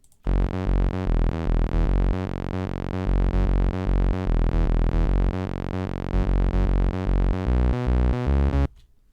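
Loud, distorted hardstyle synth bass lines pound in a fast, driving rhythm of punchy repeated notes, layered together and continuing steadily for several seconds.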